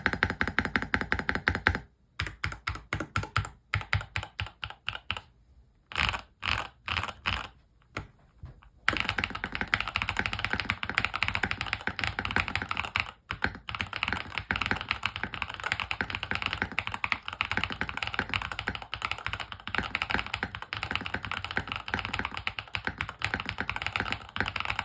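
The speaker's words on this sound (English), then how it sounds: "So wow, this is an amazing sounding keyboard." Rapid typing on a WhatGeek LUMINKEY98 mechanical keyboard, close and crisp, with dense runs of clacking keystrokes broken by short pauses early on, then nearly continuous fast typing.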